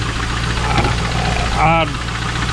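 A Chevrolet LS1 V8 with a knocking fault idles nearby, a steady low rumble with a faint rhythmic tapping underneath, while a voice is briefly heard over it.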